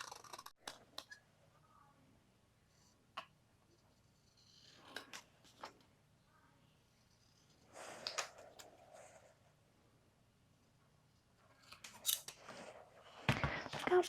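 Scissors snip through paper ephemera for a junk journal in short, scattered bursts, with quiet pauses between cuts and a louder, denser crunch of cutting near the end; no one speaks.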